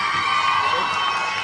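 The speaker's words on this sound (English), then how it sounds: "Let's give them a round of applause once again." Dense crowd noise of an audience at a live performance event, cheering and shouting steadily throughout with broad, continuous roar, no distinct claps standing out.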